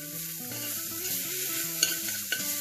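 Green chili, garlic and ginger paste stirred in hot ghee, a close continuous sizzle with a couple of sharp utensil taps, under a soft melodic background tone.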